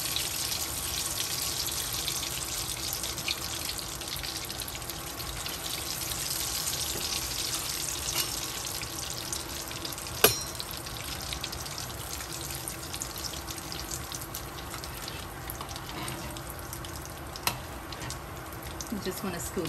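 Cassava balls coated in egg batter deep-frying in a pot of hot oil, giving a steady, close, hissing sizzle with a couple of sharp knocks.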